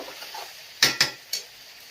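Fried tomato added to meat frying in a pan, with a faint sizzle and three quick, close scrapes of a spoon stirring against the pan.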